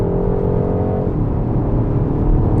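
A 2023 BMW 128ti engine hums loudly and steadily close by, its pitch rising and then dropping as the car shifts gears.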